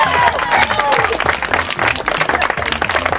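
Lively outdoor applause at the launch of a non-smoking beach in Saint-Leu, dense close clapping with crowd noise and some voices mixed in, lasting the whole short stretch.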